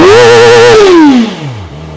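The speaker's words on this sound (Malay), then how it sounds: "Alright, engine 4 inline memang sedap lah." A QJMotor SRK450RR inline-four motorcycle engine howls high-pitched at high revs, then drops steadily as the throttle closes, settling toward a lower idle-like rumble.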